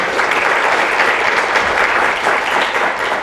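An audience at an evening event honoring Latino thought makers bursts into dense, loud applause for Dr. Gonzalez, sustained clapping filling the room without a break.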